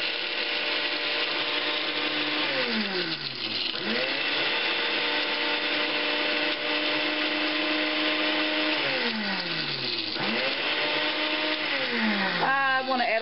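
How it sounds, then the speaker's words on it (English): Blender whirring through berries, strawberries and ice for a green smoothie, a loud continuous motor whine that dips and rises in pitch a few times as the load shifts, close up. "I'm just going to mix that together for a little while. Makes a little bit of noise"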